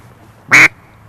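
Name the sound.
duck call blown with fingers for realism, imitating duck quacks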